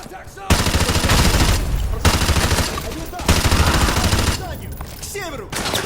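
Sustained automatic gunfire in Call of Duty: Modern Warfare 2 Remastered comes in three long, dense bursts separated by short gaps. Radio-style voices are heard in between.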